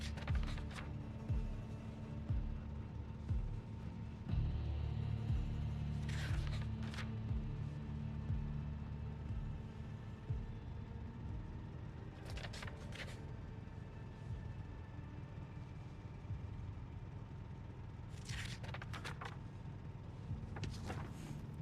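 Cars driving in a multiplayer video game give off a steady, low engine drone that rumbles continuously throughout, with a few brief higher mechanical whines rising above it.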